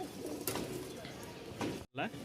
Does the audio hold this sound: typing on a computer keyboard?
no